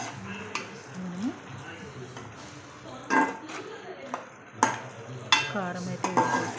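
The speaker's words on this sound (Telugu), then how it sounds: "కారం వేసేసుకొని మళ్ళీ ఒకసారి తిప్పండి" Curry gravy being stirred in a pan after chili powder goes in, with scraping and clinking of a spoon against the metal over a soft sizzle; a few sharper knocks stand out and a voice talks over it.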